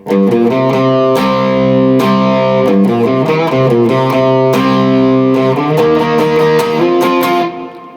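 A distorted electric guitar in standard tuning plays a steady, full melodic riff with picked notes and ringing chords, loud and close, for several seconds before fading out.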